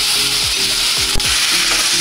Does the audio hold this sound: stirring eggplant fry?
yes